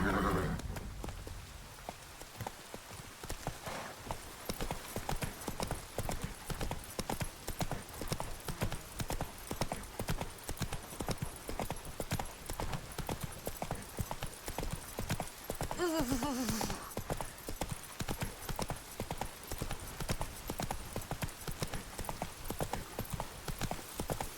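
A horse's hooves clip-clop in a fast, steady, unbroken rhythm across the ground in The Witcher 3, with a brief whinny partway through and a faint ambient hiss under the hoofbeats.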